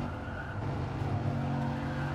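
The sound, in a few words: BMW M4 engine accelerating in third gear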